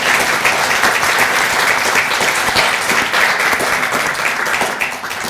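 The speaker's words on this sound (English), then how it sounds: "Please give a warm round of applause." Warm, loud applause from a lecture audience at a talk on reusing old buildings rolls on evenly, easing slightly in the final second.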